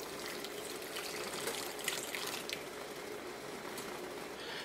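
Hot water with dissolved instant coffee poured into a chocolate mud cake mixture, a steady close splashing gush that runs on for several seconds.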